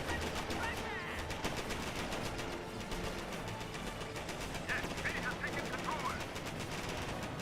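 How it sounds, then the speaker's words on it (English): Machine-gun fire rakes a Schwimmwagen in the Company of Heroes war strategy game. Rapid, rattling bursts repeat steadily and fairly loudly throughout, with a voice talking over the shooting. "Schimwagen's taking some fire there"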